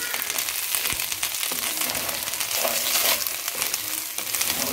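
Rice frying in a pan for a jeera rice dish, giving a steady, dense sizzle with scraping stirs throughout, close up and without talk.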